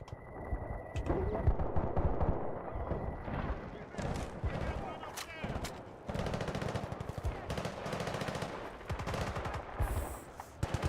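Sustained gunfire and machine gun bursts in the war shooter Battlefield Bad Company 2, with rapid rattling volleys and scattered impacts, loud and continuous over battlefield ambience, with brief talk in places.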